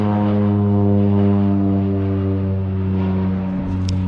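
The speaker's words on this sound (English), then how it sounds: "we live really close to an airport, so that's pretty common" Aircraft passing overhead near an airport, a loud steady drone with strong low harmonic tones that holds throughout the clip, heard alone without talk.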